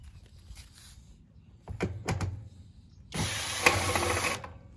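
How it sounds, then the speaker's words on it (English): Screws being backed out of a neglected Honda generator, likely self-tapping screws from the tank mount: a few short clicky mechanical ratchet-like bursts, then a louder sustained grinding stretch, close up, with no talk. "So we'll take those 2 screws out"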